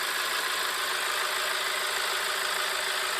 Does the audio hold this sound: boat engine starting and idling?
yes